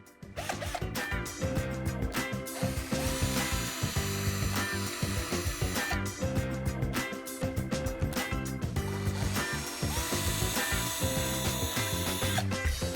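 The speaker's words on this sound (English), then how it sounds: "pre-drill using a 5mm drill to go down into the aluminium profiles" A power drill with a 5mm bit whines and grinds steadily up close, its pitch wavering as it bites into aluminium roofing profiles, with brief pauses between passes.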